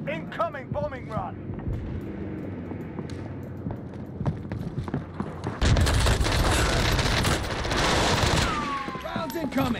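Rapid gunfire bursts and explosions from a bombing run in Call of Duty Warzone in Verdansk, with loud rattling shots building into a dense, roaring barrage halfway through.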